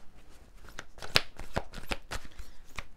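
Playing cards handled and shuffled during a tarot-style card reading, a run of crisp riffling bursts and soft snaps close by, steady and quiet with no talking.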